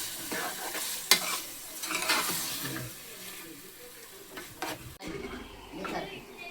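Chicken curry with vegetables being stirred in a pot, irregular scraping and clattering of a spoon over a soft sizzle, close by, with a sharp knock near the end.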